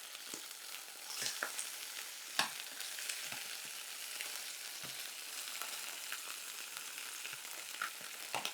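Lamb meat browning in a pan, with a steady close crackling sizzle throughout and a few sharper pops and stirring clatters breaking through.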